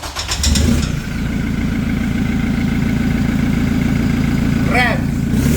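A Toyota Hilux fitted with a Greedy aftermarket exhaust cranks and fires up, then settles into a steady, loud, close idle with a low rumble; a brief voice cuts in near the end.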